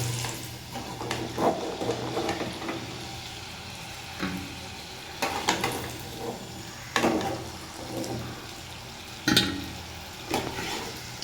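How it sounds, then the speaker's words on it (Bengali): Potatoes frying in a pan on a gas stove give off a soft, continuous sizzle. Louder bursts of stirring and clatter break in every few seconds, and nobody speaks. "তো এখন আমি আলুটা ভালো করে লাল করে ভেজে নিলাম।"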